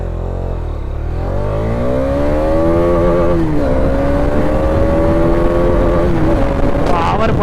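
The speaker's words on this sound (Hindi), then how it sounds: "तो स्टार्ट कर लेते हैं गाड़ी। वो एग्जॉस्ट है इसका गजब, भारी भरकम गाड़ी है।" Bajaj Dominar 250 motorcycle engine running and revving up through the gears, a loud, steady exhaust drone with rising and falling pitch sweeps as it accelerates, close to the microphone throughout.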